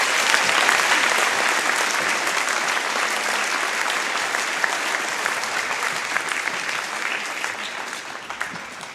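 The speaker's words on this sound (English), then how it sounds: "Let's give them another round of applause." Sustained audience applause fills a school Veterans Day program, a dense, steady wash of many hands clapping at close range that holds evenly throughout with only a slight fade.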